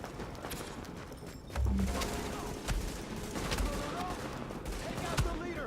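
Gunfire in The Division video game, bursts of shots crackling over a dense battle din with a heavier volley kicking in partway through, as in a street firefight during a patrol under attack.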